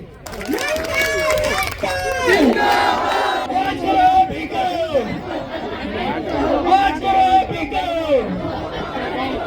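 A close, loud crowd at a nurses' recruitment protest rally shouts and chatters, with many overlapping voices rising and falling continuously throughout.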